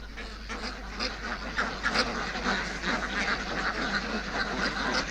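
A flock of American Pekin ducks on a farm raising 3,000 ducks alongside fish quacks continuously, overlapping calls filling the background at moderate distance.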